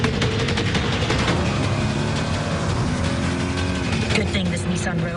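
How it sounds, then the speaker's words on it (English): A 2022 Nissan Rogue with a standard turbocharged engine drives past. A steady, loud engine roar and road rush run the whole time, mixed with voices and other sound. "Good thing this Nissan Rogue is a standard turbocharged engine"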